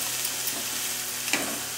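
Chopped onions with finely cut green chillies frying in a pan for pav bhaji, a steady close sizzle with a soft stirring scrape near the end.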